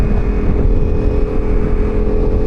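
CFMoto motorcycle engine running at a steady idle close by, a continuous low droning rumble with a faint whine above it, holding even throughout with no one speaking.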